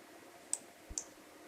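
A computer mouse clicks while a website is being set up, three faint, sharp, separate clicks in a quiet room, no talk.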